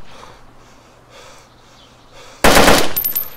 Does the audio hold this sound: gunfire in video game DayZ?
yes